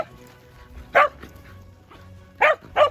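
A ranch dog herding calves gives three sharp, close barks, one alone and then a quick pair, over quiet outdoor background.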